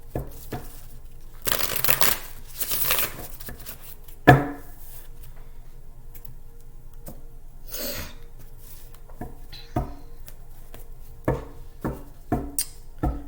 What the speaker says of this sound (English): Let's shuffle one more time.